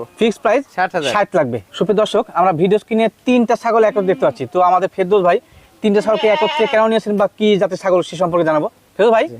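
Repeated loud, close goat bleats on a goat farm, wavering and nasal, coming in quick bursts with short pauses between them.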